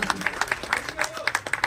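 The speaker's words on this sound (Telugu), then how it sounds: "అండ్ గట్టిగా చప్పట్లు సార్." Applause from an audience at an event, a brief burst of quick, uneven clapping, moderately loud, with speech mixed in under the claps.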